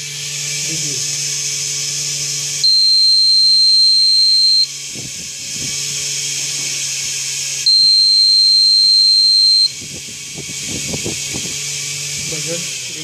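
An LPG leakage detector's buzzer alarm sounds as a steady high electronic tone in two bursts of about two seconds each, loud and close. Between the bursts a fan hums and a person talks.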